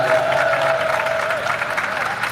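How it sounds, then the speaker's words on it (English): A crowd at an outdoor protest in Liverpool claps steadily for a speaker, a continuous mass of applause with a faint tonal whine running underneath. "Give her a big round of applause, please."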